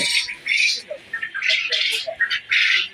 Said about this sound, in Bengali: কয়েল পাখি আছে। এগুলোর বয়স বর্তমানে আছে 1 মাস প্লাস, মানে 33 দিন বয়স।